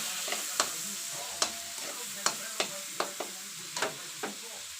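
A dish seasoned with soy sauce fries in a pan while a spatula stirs it, giving about nine spaced scrapes and taps over a faint background sizzle.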